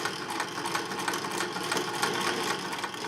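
A Singer sewing machine stitching steadily, its rapid mechanical whir and needle clatter running continuously and fairly loud throughout, with no talk over it.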